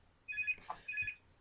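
A mobile phone rings indoors with two bursts of a bright electronic ringtone separated by a short gap, fairly close and clear, with no talking over it.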